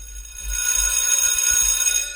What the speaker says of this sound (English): That is the school bell ringing.